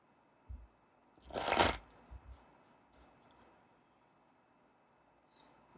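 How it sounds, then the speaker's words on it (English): A deck of oracle cards gets a quick riffle shuffle, one brief crisp flurry of card edges in a quiet room, followed by a few faint taps and rustles. "Actually, I don't know why I'm shuffling these."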